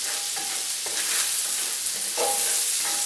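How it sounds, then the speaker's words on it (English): Onions and mixed vegetables sweat in a pan over low to medium-low heat, giving a soft, steady sizzle with a few faint scrapes of stirring. "we're going to get these vegetables all sweated down and soft"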